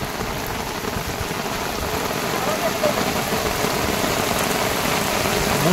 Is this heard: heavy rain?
yes